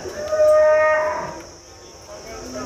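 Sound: Holstein Friesian cows mooing at a cattle market

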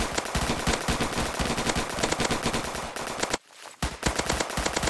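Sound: ghost gun firing in Roblox Zombie Attack video game

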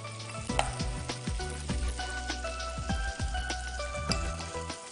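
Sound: food frying in a pan

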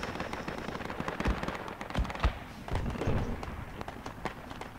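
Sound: gunfire in a video game battle

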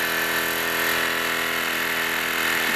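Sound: Wilesco D-18 toy steam engine running

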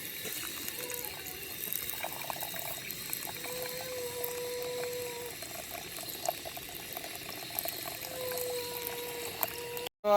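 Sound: washing khichdi rice and lentils with water

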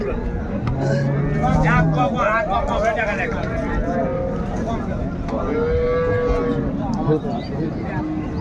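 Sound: cow mooing

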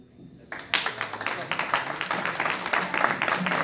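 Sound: audience applause at award ceremony

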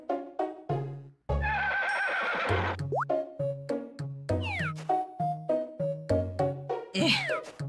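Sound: horse neighing in the video game Harvest Moon: Island of Happiness

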